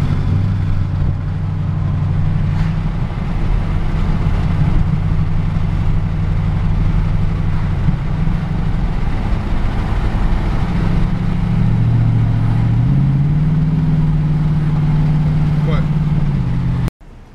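A 2010 Chevrolet Camaro SS engine idles with a deep, steady rumble, the pitch rising slightly as it revs before cutting off abruptly at the end.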